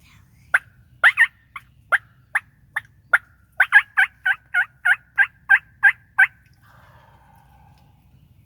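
Wild turkey toms gobble in spring hunting season, a rapid series of about a dozen sharp, rattling calls, the first few scattered and then a fast steady run, moderately distant in a quiet outdoor setting.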